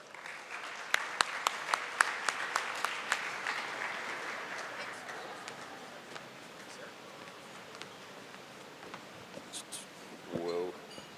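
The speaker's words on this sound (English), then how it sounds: "Let's give Dr. Tipton a round of applause." Banquet audience applauding an award recipient at an academic and athletics awards dinner, a dense patter of clapping that is strongest early and thins out over about ten seconds, ending in a brief voice.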